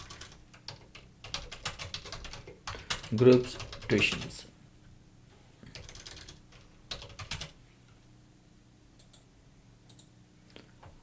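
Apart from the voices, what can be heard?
typing on a computer keyboard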